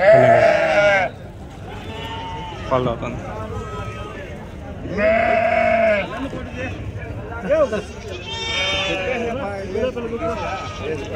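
A young goat bleats loudly twice, short wavering cries a few seconds apart, while people talk nearby throughout at a goat market.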